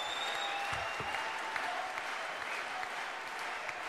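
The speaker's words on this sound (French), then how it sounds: "Vous pouvez encore l'applaudir très fort, monsieur Antoine Lubrina, pour ce témoignage très franc." Audience applause for Antoine Lubrina at a large political rally marking the UPR's tenth anniversary, a steady wash of clapping from a big crowd, sustained and even throughout, with faint background voices.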